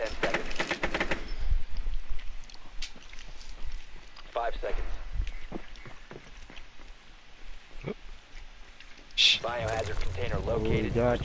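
Bursts of gunfire in the tactical shooter game Rainbow Six Siege, with irregular shots and footsteps spread across the scene, partly under talk from the players.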